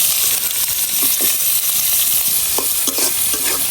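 Onions sizzle steadily in oil left from frying carp, with a few soft stirring scrapes cutting through the continuous close crackle.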